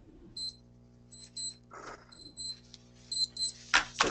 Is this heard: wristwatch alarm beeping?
yes